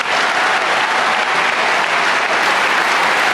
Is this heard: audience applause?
yes